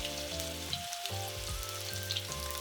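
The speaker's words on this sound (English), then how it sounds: "And I add it. Perfect sound. The sound is higher than the vegetables." Shrimp tempura frying in hot oil, a steady, bright, close sizzle with crackling bubbles running throughout, with no talking.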